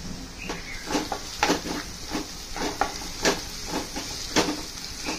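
Onions with turmeric and ginger garlic paste are stirred in a pan with a spoon, giving a series of irregular scraping clicks and taps over a faint, steady sizzle.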